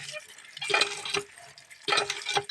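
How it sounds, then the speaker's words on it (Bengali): Small soil-covered potatoes are washed in water, giving two bursts of sloshing, splashing and rubbing close by, with a brief pause between them. "প্রথমে আমি জলে ভালো করে ধুয়ে নেবো আলুগুলো"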